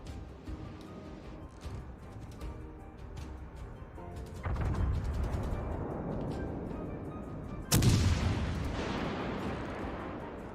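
Yamato battleship main guns firing in the naval game World of Warships Legends, a deep booming salvo that rolls in around the middle and a second sharp, louder blast near the end over steady rumbling background battle noise.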